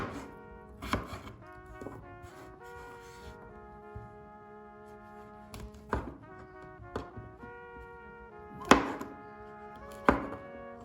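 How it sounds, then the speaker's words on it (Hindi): Knife chopping potatoes and mushrooms on a board in a home kitchen for a chicken stew, with scattered sharp thunks of irregular rhythm, a few louder, under a faint background hum. "कैरेट के बाद हम काटेंगे कुछ आलू और मशरूम्स"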